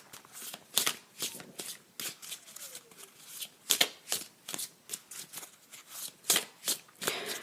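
Crisp, riffling bursts of playing cards being shuffled close by, repeated in quick irregular runs with short pauses between.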